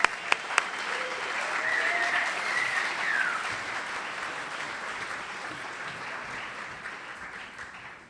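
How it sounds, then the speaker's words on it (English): An audience at the 33rd annual Ecological Farming Association conference applauds to welcome a speaker, with sustained clapping that fades toward the end. "Let's give him a round of applause."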